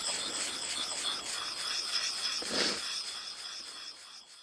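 Knife blade being sharpened on a fine-grain sharpening stone outdoors, soft repeated scraping strokes that are moderately quiet and close, with one fuller stroke near the middle and no talking.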